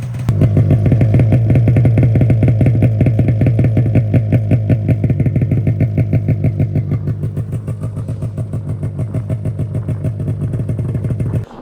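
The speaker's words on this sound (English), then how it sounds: "I'm gonna let that idle for a little bit." An old, blown-up snowmobile engine idles close by with a rapid, even, loping putter and mechanical clatter, steady and loud before it fades slightly near the end, with no talk.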